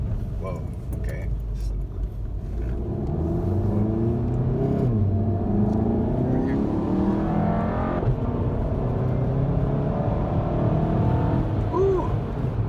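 A manual VW Golf GTI Mk7 running a Cobb Stage 1 tune accelerates hard, its engine note climbing through rising revs with shifts, heard from inside the car over a continuous road rumble.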